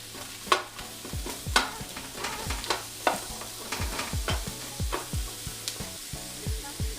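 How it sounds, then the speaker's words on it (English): Onions frying in a hot pan for beef stew, a steady close sizzle punctuated by repeated sharp scrapes and knocks of a utensil stirring against the pan. "my pan's nice and hot, and I'm just gonna add in my onion, and we're gonna cook this down"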